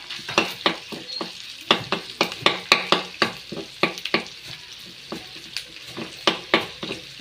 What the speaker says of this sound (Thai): เอาหอมมาเจียวใส่กับหมู